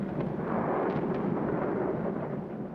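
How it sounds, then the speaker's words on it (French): Huge bombs striking a munitions store aboard the battleship Tirpitz explode in a heavy, continuous rumbling roar that swells and slowly fades, with no voices. "3 énormes bombes frappent une réserve de munitions"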